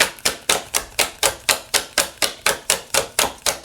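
Tarot cards are shuffled in a rapid, even series of about fifteen crisp riffling snaps, close and loud, with no talk.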